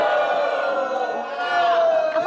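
A studio audience on a dating game show bursts into loud, sustained cheering and shouting, a dense crowd roar that holds steady throughout.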